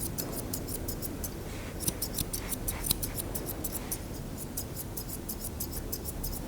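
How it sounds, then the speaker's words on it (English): Rapid, steady snipping of scissors tips trimming a poodle's muzzle hair, a continuous rhythmic run of small metallic clicks close by, with no voices. "just with the tips of my scissors, just scissor that off."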